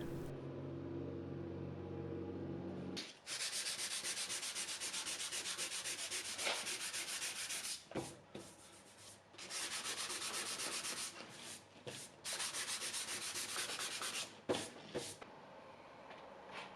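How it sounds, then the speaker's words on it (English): Sandpaper of 600 grit rubs across a wooden dining table top in long continuous strokes, loud and close, with brief pauses between passes and no talking. "I'm going to take 600 grit sandpaper and just sand the entire top piece here"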